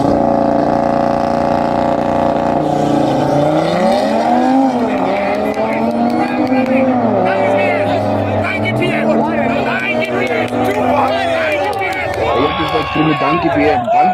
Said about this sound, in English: Let's listen to the race.